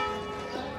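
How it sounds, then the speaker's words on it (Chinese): A bell rings from a church in a small Spanish town, a single sustained ringing tone with a long hum, moderately close and clear, with no voices over it. "这个是11点的钟声"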